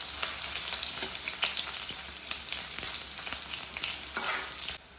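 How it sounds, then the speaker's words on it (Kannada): Crushed garlic and ginger fry steadily in a hot pan, a dense continuous sizzle with scattered crackles and pops, close and fairly loud with no voices. "ಬೆಳ್ಳುಳ್ಳಿ ಸ್ವಲ್ಪ ಕೆಂಪಾಗಿ ಕಾಯಬೇಕು."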